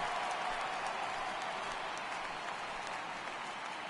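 A stadium crowd in a PS4 baseball game gives a standing ovation, a steady wash of distant applause and cheering that holds evenly throughout.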